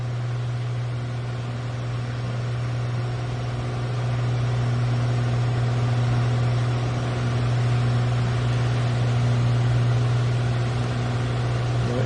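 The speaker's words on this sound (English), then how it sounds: "engine sound is a little bit loud," Steady piston drone of a simulated Piper Turbo Arrow's engine in Microsoft Flight Simulator VR, a loud constant hum with a strong low tone that holds evenly throughout with no talking.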